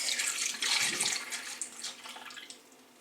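Milk pours into a bowl for homemade pancake batter, a close, steady liquid splash and gurgle lasting a few seconds before tapering off, with no talk.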